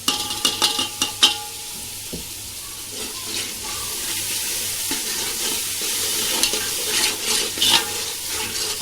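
A quarter kilo of yogurt goes into a large deg of Konkani wedding-style biryani and is stirred in, with a few sharp clinks at first, then a continuous wet sizzling and churning.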